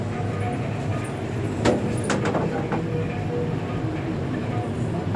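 Steady rumble of a metro carriage in motion, with a few brief clicks and rattles over continuous low-frequency track noise.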